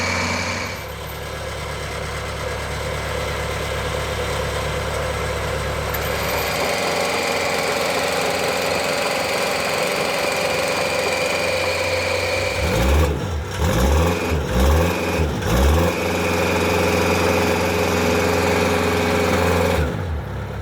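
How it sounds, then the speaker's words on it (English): A bulldozer's diesel engine runs loudly throughout while it is driven, a steady close drone that changes pitch partway through, then a series of revving surges near the end. "he decided to let me drive it up to the road, and it's just like a giant RC bulldozer"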